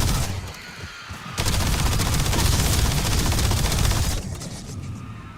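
Gunfire in a shooter video game comes as a sustained dense burst of rapid automatic shots, loud and continuous for about three seconds, with lighter firing before and after.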